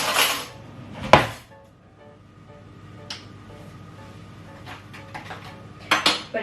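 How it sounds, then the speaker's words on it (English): A spoon stirs giant cookie dough in a bowl, giving a few scattered clinks and scrapes against the bowl with quiet pauses between them. "We're just going to stir this in."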